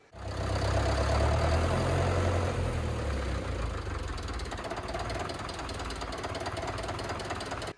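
A McCormick Roadless B450 tractor's air-governed engine rumbles low and steady at idle throughout, with a lumpy, knocking rhythm and no talking over it.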